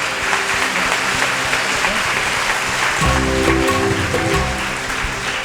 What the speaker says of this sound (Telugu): చప్పట్లు కొట్టినారా?